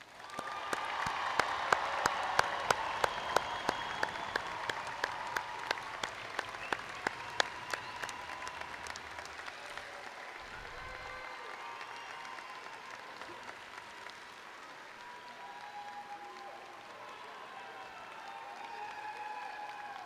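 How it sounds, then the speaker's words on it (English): A large crowd at a high school graduation ceremony applauds the graduates in a big indoor facility, loud at first with sharp individual claps, then gradually thinning into a softer, more distant patter. "Please help me congratulate the graduates with a huge round of applause."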